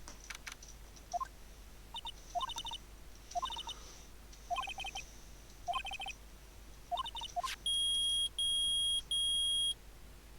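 Electronic beeping from the Phoenix Wright: Ace Attorney video game, short bleeps in repeated groups over a faint background, ending in three long, loud sustained tones.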